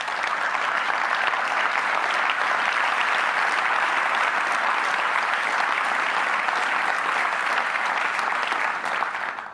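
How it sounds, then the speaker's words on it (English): A large audience claps continuously, a dense, even roar of applause that holds steady throughout. "That round of applause is actually for the doctors and nurses of the hospital"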